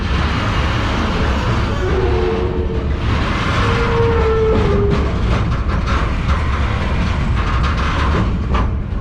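A freight train rolls along the tracks up close, a loud continuous rumble with squealing wheel tones and rhythmic clicking clatter building toward the end.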